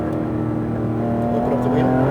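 Porsche GT3 RS engine held under steady throttle at a Speed Vegas track session, a loud continuous droning tone that climbs slightly in pitch over two seconds, with an instructor's voice over the engine.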